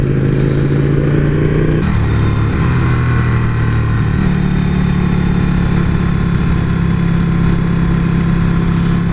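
Ducati Panigale 1299 sport motorcycle ridden at night, its engine a steady loud drone with shifting pitch as gears change, wind rush continuous throughout and no talking.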